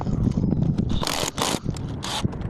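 A wrench tightens a sway bar link bolt on a 1999 Mazda Protege, giving close metallic ratcheting clicks and scraping bursts over a low mechanical hum, with no talking.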